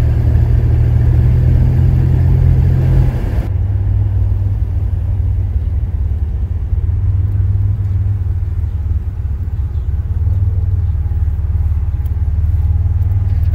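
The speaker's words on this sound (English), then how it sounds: "I want to find out if this car will do a burnout." Loud, steady rumble of a junkyard-rescued scrap National car engine held on boost for a burnout, with a continuous low drone and no talk.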